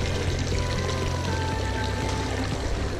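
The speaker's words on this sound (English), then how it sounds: "There are hundreds of water fountains in Zurich, and all of them contain water that can be drunk." Water pours steadily from a public drinking fountain in Zurich, a continuous close splashing stream with no talk.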